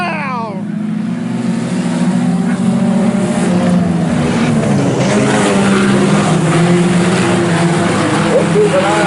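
IMCA Sport Compact race cars at Salina Speedway, a pack of engines roaring together down the back straightaway, loud and sustained with shifting pitch, while an announcer talks excitedly over them.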